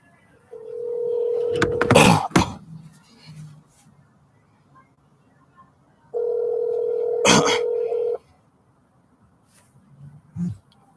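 A telephone places a call, sounding two long steady tones a few seconds apart, each with a sharp click or burst in the middle, with faint clicks and soft background noise in between.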